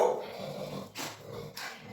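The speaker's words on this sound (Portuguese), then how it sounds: "estou na casa de amigos que tem uma American Bull, que tem um latido bem forte" An American Bully dog at a gate lets out a low, close growl followed by two short, sharp bursts of barking.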